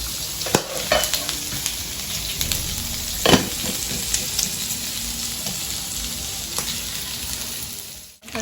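Kangkong sizzles and crackles in hot cooking oil, a steady broadband frying hiss with scattered pops and a few sharper stirring clatters, close and fairly loud, continuous throughout with no talking before cutting off abruptly at the end.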